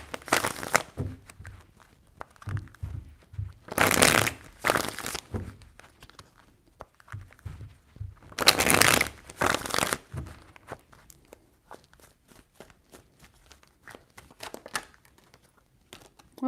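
Tarot cards are shuffled in a few loud, crisp bursts of riffling and rustling, separated by quieter stretches of faint handling noise.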